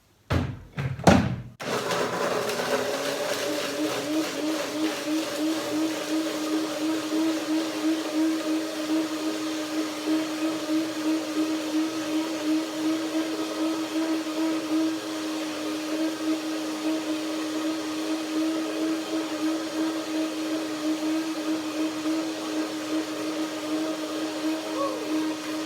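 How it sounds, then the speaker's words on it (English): A blender runs steadily for about 25 seconds, whirring through a batch of date cashew cream with water, after a brief clatter at the start. The motor hum stays loud and even throughout. "Let's see, blender dance."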